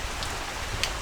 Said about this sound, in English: there's a big tropical storm rolling in